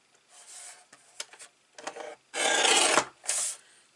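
Paper cardstock slid through and cut on a trimmer for a tri-fold card: a few soft scattered scraping strokes, then a loud, rasping cutting stroke lasting about half a second, followed by a shorter swipe, close by with no talking.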